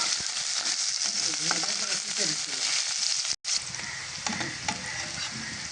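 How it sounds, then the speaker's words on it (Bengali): Onion and green chili frying in a pan for a North Bengal aloo ghati dish, a steady close sizzle with intermittent stirring scrapes, briefly cut by a moment of silence midway. "পেঁয়াজটা প্রায় ভাজা হয়ে এসেছে"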